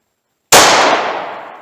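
A single sharp, loud gunshot from a .38 Special round fired in a .357 Magnum revolver, cracking out of silence and decaying in a short ringing tail.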